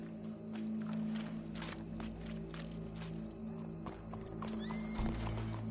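A horse in Red Dead Redemption 2 approaches with clip-clopping hooves and a whinny, steady hoofbeats over a low hum, fairly close.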